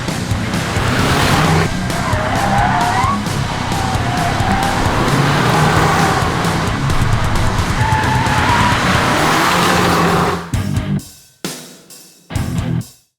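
A 2022 VW Polo GTI with about 207 horsepower driving hard on a circuit, its engine roaring loudly and tires squealing through corners for about ten seconds before cutting away to brief, quieter bursts.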